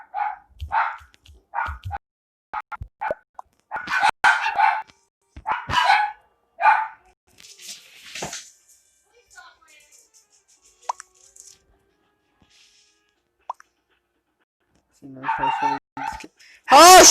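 A dog barks repeatedly in short sharp bursts at close range, the barks mixed in with people talking during an online game session.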